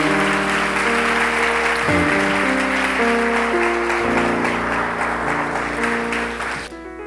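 A church congregation claps along during a thanksgiving service while music with sustained chords plays over it, the clapping steady and loud for several seconds and then thinning out near the end.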